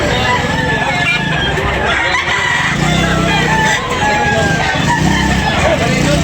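Fighting cock roosters crowing over and over at a busy Sunday morning poultry market at Tabunok, with clucking, people talking and passing vehicles in the background.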